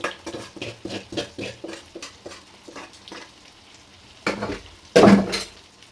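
Food frying in a pan on a home stove, stirred with a utensil in a steady run of scraping, clinking strokes over a soft sizzle, ending in a louder clatter near the close.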